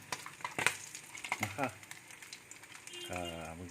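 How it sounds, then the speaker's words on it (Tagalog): Maling luncheon meat frying in hot, splattering oil, with crackling sizzle and sharp pops at the start, then a voice speaking over a steady low frying hiss. "Nagluto tayo, medyo ingat tayo sa mantika kasi tumatalsik."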